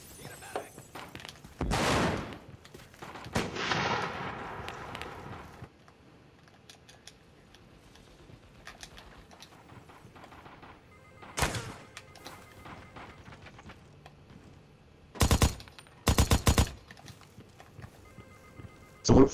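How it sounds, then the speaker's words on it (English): Sharp bursts of gunfire come from the America's Army video game, several loud isolated volleys separated by quieter stretches of background noise. "Who the fuck is shooting at me?"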